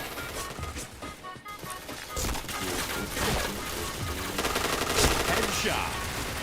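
Rapid bursts of video-game gunfire from an online shooter, dense and continuous, with a voice talking over it.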